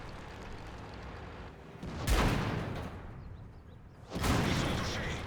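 Two heavy tank cannon shots in World of Tanks fired at a Maus's front drive wheel, each a loud broadband boom with a lingering rumble, spaced about two seconds apart over a steady low battle background.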